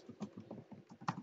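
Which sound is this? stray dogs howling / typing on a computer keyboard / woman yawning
typing on a computer keyboard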